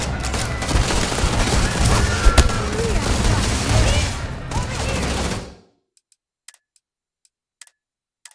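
Gunfire crackles in Starfield as a loud, rapid fusillade of shots for about five seconds, then cuts to near silence broken by a few faint isolated ticks.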